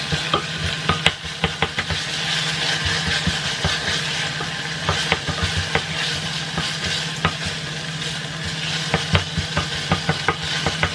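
Ingredients sautéing in a pan for an Indian dish, giving a steady, close sizzle and hiss with frequent clicks and scrapes of stirring against the pan, alone without voices.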